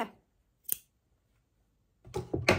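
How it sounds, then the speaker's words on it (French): Scissors snip through knitting yarn close up, with one crisp cut, a pause of near silence, then a brief cluster of snipping and handling noise. "on va venir couper en laissant suffisamment de fil"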